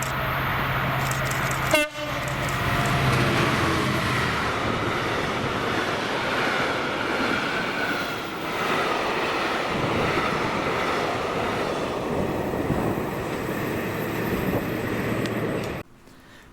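Freightliner Class 66 diesel locomotive 66526 hauling TDA wagons in Scotland, a steady loud rumble of engine and rolling stock passing close by, with a brief horn toot near the start, cutting off abruptly at the end.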